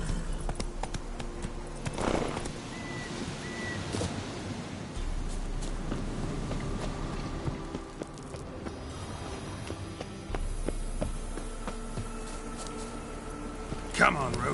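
The horse Roach gallops in a video game, a steady hoof clip-clop rhythm under loud wind and ambient noise, while someone talks over the riding at intervals.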